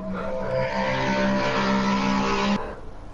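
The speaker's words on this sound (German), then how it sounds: "Boah, was war das für ein Auto?" In a video game, a car engine revs hard for about two and a half seconds with a sustained tire squeal as it skids. The sound then cuts off abruptly.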